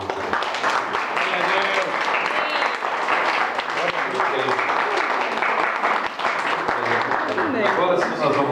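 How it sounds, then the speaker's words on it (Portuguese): A church wedding congregation applauds together, a dense, continuous wash of clapping that holds steady at full strength throughout, fairly close and loud. "Dá um aplauso ao Senhor."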